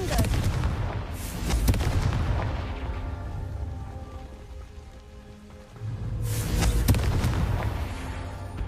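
Confringo blasting spell from Hogwarts Legacy firing in a fantasy game, two loud booming explosions with crackling, rain-like debris tails, separated by a quieter stretch of low rumble and ambient game sound.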